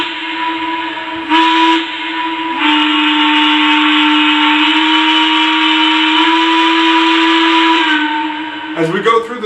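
Sustained steam whistle from a Lionel Legacy EM-1 2-8-8-4 model locomotive, a loud, close, steady chord of tones held for several seconds, shifting slightly in intensity, over a soft hiss.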